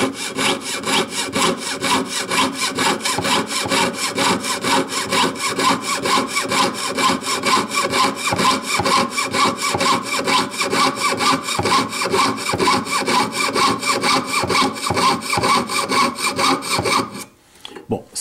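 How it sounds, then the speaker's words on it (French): A hand saw cuts steel along a marked line in long, steady back-and-forth strokes, loud and close, running without pause until it stops abruptly near the end. "pour débuter à scier, il n'y a pas besoin de forcer, il faut toujours laisser le temps aux dents de rentrer dans le métal"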